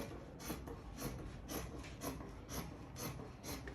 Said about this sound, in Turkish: Şimdi etek ucunu da kesiyorum.